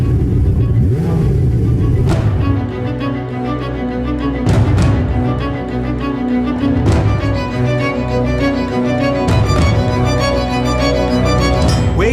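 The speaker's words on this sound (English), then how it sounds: "The sound of the new special version is unmistakable at all engine speeds" A powerful Ferrari 488 Pista V8 engine revs hard and loud, climbing and dropping through repeated gear changes with a deep, continuous roar.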